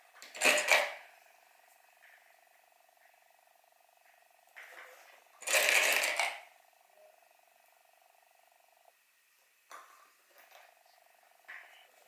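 A sewing machine stitches around the edge of a homemade zip-around long wallet, with a steady motor hum broken by two louder whirring runs and a few shorter bursts, close up and without talk.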